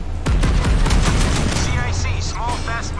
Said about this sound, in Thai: ปืนใหญ่ ยิง